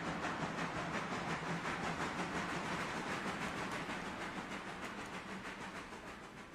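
A locomotive in the Railroader train-simulation game backs up slowly, giving a steady close rumble with a faint rhythmic clatter and hiss that fades a little toward the end, with no voices.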